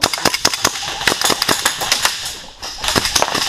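Airsoft guns firing BBs during a CQB game at Ironsight Airsoft, G&G Top Tech EBB M16 in use, rapid sharp cracks in fast uneven bursts, loud and close, with a brief pause before the firing resumes.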